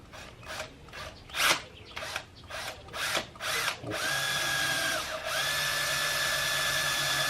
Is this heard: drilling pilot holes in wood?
yes